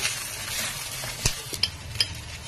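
Tomatoes fry in a pan for Nellore-style pappu pulusu, a steady sizzle with a few sharp scrapes and taps of a spoon stirring against the pan, close and fairly loud.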